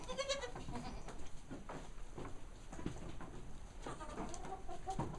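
Goats bleating outdoors at a windmill farm complex, several short calls scattered near and far amid quiet ambient noise, with bird chirps mixed in.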